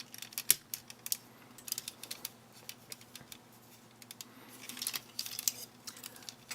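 Plastic Hasbro Masterpiece Transformers Skywarp figure being handled and folded, giving scattered light clicks and snaps of plastic parts, close and fairly quiet, with no talk.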